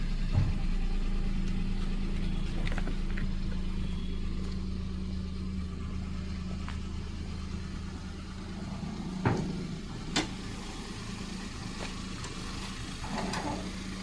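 A 2001 Maruti Alto LX car engine idles steadily with a low, constant hum, broken by a few faint clicks and knocks.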